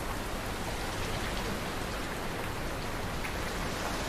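Heavy monsoon rain pours down in Mumbai, a dense, steady roar of falling water that stays loud and even throughout with no voices or other distinct sounds.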